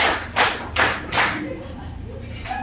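A fifth-grade elementary class claps in unison during a counting clap game, sharp group claps in a quick even rhythm, close and loud, followed by a quieter stretch with faint room murmur.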